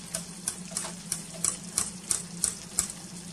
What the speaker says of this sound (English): I'm just going to whisk it a little bit just to get that heat out of there